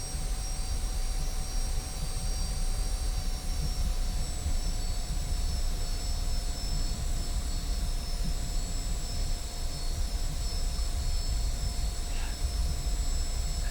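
An F-86F jet engine in the DCS flight simulator, heard during taxi, gives a steady, droning hum with a constant whine that holds unchanged throughout at moderate level, no talking.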